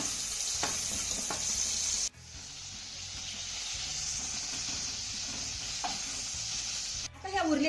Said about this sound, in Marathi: इथे तुम्ही बघू शकता आपल्या ह्या मिरच्या छान अशा डाग पडेपर्यंत परतून झालेल्या आहेत